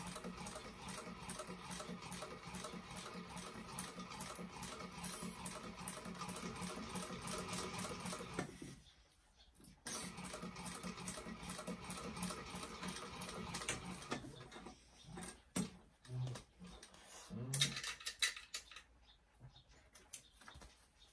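A sewing machine top stitches a multicoloured bag in olive green thread, running in long steady bursts with a brief pause midway and stop-start stitching toward the end, close and fairly quiet.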